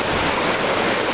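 Water rushing steadily along a river in a rural ravine, a continuous broadband roar with no pauses and no voices.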